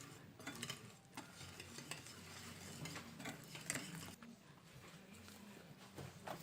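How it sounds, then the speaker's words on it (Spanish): Egg and a pinch of salt being stirred briskly for a baking batter, a steady scraping, clinking whisk-against-bowl rhythm close by with no talking. "Vamos a mezclar bien mezclado"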